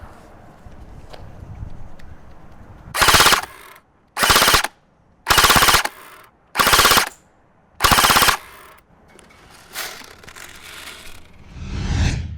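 Cybergun M249 Para Featherweight airsoft support gun recorded at the muzzle, firing five sharp full-auto bursts of about half a second each, evenly spaced, loud and close over a low background hum.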